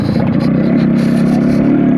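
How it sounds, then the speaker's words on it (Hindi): A Yamaha RX100 motorcycle, running rich and needing a main jet change, revs close by in a continuous, loud, throaty engine drone with a rapid pulsing beat. "जैसा एकदम पट पट से साउंड आता है।"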